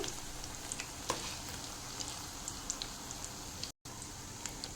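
Battered rose flower pakoras fry over medium heat with a steady, close crackle of oil. Light pops are scattered through it, and there is one brief dropout to silence partway through.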